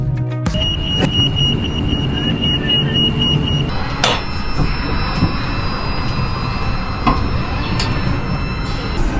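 Steady rumble and rolling noise inside a moving high-speed train heading to Beijing Daxing airport as it picks up speed, with a faint high whine and occasional clunks over the tracks.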